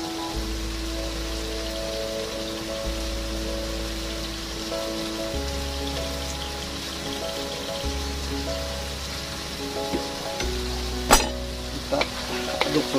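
Vegetables with green chili and tomato fry in a pan as they are stirred, a steady sizzle with soft scraping strokes and a few sharper clatters near the end, close and with no talking.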